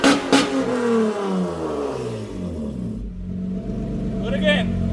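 A Honda Accord engine revs hard through a new three-inch exhaust with the cutoff valve open, its rising, harmonic-rich roar sweeping upward and then holding a steady drone, close and loud throughout.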